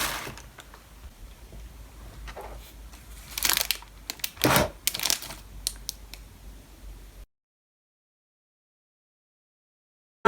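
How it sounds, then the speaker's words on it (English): Crinkling and rustling of a plastic bag being handled close by, in short irregular bursts, followed by silence. "So I'm just going to use a paper, a plastic bag to go on top."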